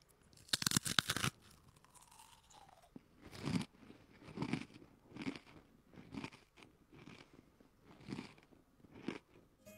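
Eating ASMR bites and chews picked up close on a FIFINE K688 microphone, a sharp crunchy burst of bites followed by a steady run of softer rhythmic chewing crunches.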